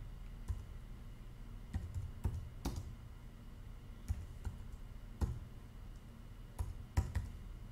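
Fast typing on a computer keyboard while entering words into a setup form, irregular bursts of soft clicks and clacks close up, with no talking.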